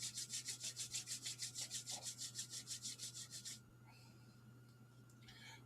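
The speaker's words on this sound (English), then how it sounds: "Now just rubbing your hands together." Hands rub together briskly in a steady back-and-forth rhythm during a t'ai chi session, about twenty close, soft swishes before stopping, followed by quiet room tone.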